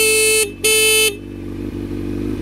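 A 1993 Honda CBR 900 RR sounds its horn in two loud, close honks with a short gap between them, while a low engine rumble continues underneath and afterward.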